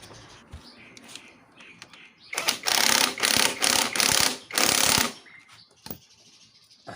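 A ratchet tightens a nut during a headlight repair, giving several loud bursts of rapid clicking with short pauses between them, close to the microphone, while quieter handling noises sit around them.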